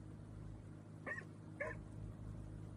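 A dog aboard a boat gives two sharp barks about half a second apart, fairly quiet and set against a low, steady engine hum.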